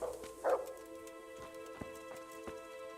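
A dog in the medieval game Kingdom Come: Deliverance gives a single short bark near the start, followed by faint quiet background ambience with no talk.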